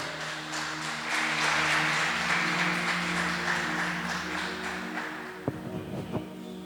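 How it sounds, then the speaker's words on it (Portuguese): A church congregation claps in praise, steady applause of moderate level over a low musical hum, with a couple of sharper knocks near the end. "Aplauda o nome do Senhor, irmãos"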